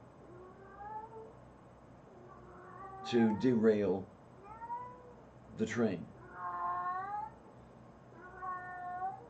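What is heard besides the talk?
cat meowing and caterwauling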